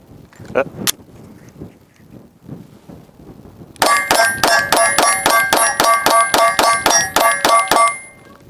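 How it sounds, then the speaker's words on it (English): A Glock 43X pistol fires a rapid string of shots at close range, each followed by a bright metallic clang and ring from the steel targets, after a stretch of quieter handling noise. "The dangers of shooting steel close."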